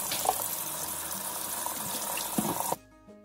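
A kitchen tap runs steadily while a pork butt is rinsed under the stream, giving a close, continuous splashing gush that cuts off abruptly near the end.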